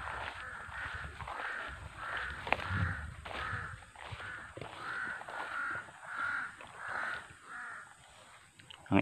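Repeated harsh caws from several crows in steady succession, moderately near, with faint rustling and outdoor background noise beneath, near banana plants in Tayabas City, Quezon Province, Philippines.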